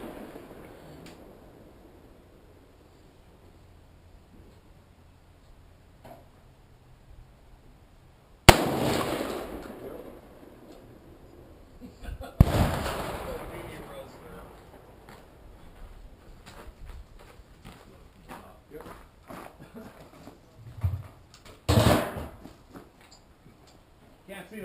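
An AR-15 rifle fires military 5.56 ammunition outdoors: a few sharp, loud reports spaced several seconds apart, each ringing out with a long decaying tail, while people talk quietly in between.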